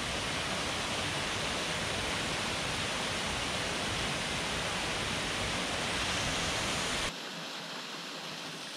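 The Lichtenhainer waterfall in Saxon Switzerland's Elbe Sandstone Mountains roars as a steady, dense rush of falling water close by, then drops abruptly to a quieter wash near the end.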